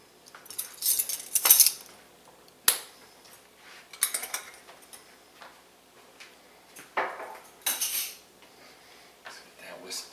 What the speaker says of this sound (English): Let's get that whisked in there.